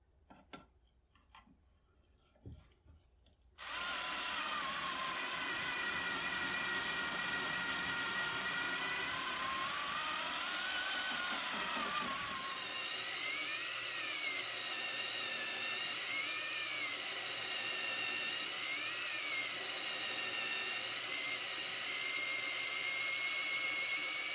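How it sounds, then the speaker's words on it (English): A brief soft tapping, then an electric drill scrubbing the chamber of a rusted Kar 71 rifle barrel whines steadily, its pitch wavering up and down in slow repeated swells. "I'll go slow and steady with it being attached to a drill, going no deeper than the chamber."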